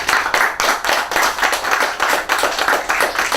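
A crowd at a graduation ceremony gives a round of applause for the CSEC valedictorian, loud, close clapping in a quick, somewhat rhythmic pattern, sustained evenly for the whole stretch.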